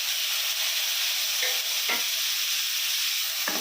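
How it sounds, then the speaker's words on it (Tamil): Tomatoes sauté in a pan for a fish curry with a constant close sizzle. A few short spatula strokes break through it. No talking. "கொஞ்சம் தக்காளியும் சேர்த்து அது வதக்கிடலாங்க."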